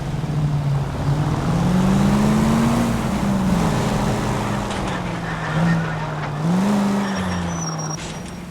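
A car driving in the video game L.A. Noire, its engine a steady droning hum that rises and dips gently as it accelerates and eases off, loud and continuous with no voices.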